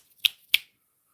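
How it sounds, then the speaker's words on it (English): Two crisp, close finger snaps in quick succession, about a third of a second apart, ringing out alone in an otherwise quiet space with no talking. "snap your fingers 3 times"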